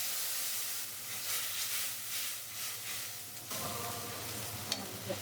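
Ground cumin, coriander and ginger paste with green chilli paste frying for a doi rui fish curry, a faint steady sizzle with stirring scrapes that thicken into a fuller frying rush near the end.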